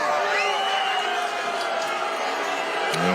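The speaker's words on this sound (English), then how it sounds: "the crowd not liking that" High school football crowd at McQuaid versus Rush-Henrietta reacting with disapproval to a no-flag call, a broad, steady murmur of voices with scattered shouts at moderate level.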